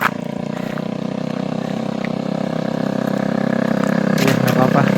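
A motorcycle engine drones steadily and fairly close along a road in Indonesia, growing slightly louder toward the end, with no voices over it.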